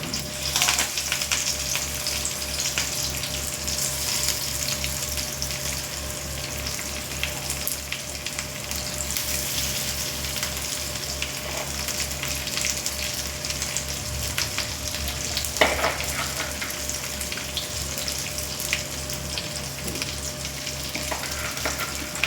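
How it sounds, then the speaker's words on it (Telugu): Fish fried in hot oil in a pan over low heat, a steady loud crackling sizzle that holds evenly throughout with occasional sharper pops and spits and no talking. "ఇప్పుడు ఫ్రై చేసుకుంటున్నాను."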